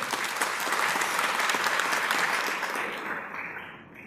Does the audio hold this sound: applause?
yes